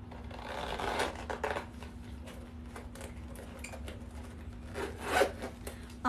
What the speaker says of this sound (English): Got the zipper compartment here.